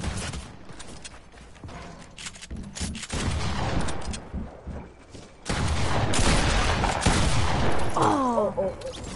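Gunfire in the video game Fortnite, bursts of rapid shots and clattering mechanical sounds that grow louder and denser partway through, loud and close, with no speech.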